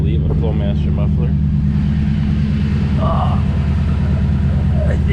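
Close, loud, steady rumble of a car idling through a true dual exhaust with a Flowmaster muffler, a voice speaking briefly over it.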